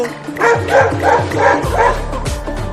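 A cartoon dog barks and yips in a loud, rapid series of about five close barks, ending with a brief whimper.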